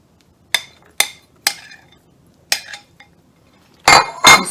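Apple pieces drop into a salad bowl as a string of sharp, separate clinks and knocks, about six spaced hits and then two louder, fuller clatters at the end, close and with no talking.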